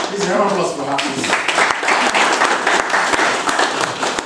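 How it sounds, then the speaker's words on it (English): Audience applause at a student association election debate, steady dense clapping at close range with some voices mixed in, holding for the full four seconds. "Please, round of applause"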